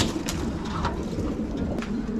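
Pigeons of various breeds at a rooftop pigeon farm coo in low, overlapping calls amid a busy, constant background, close and fairly loud, with no speech.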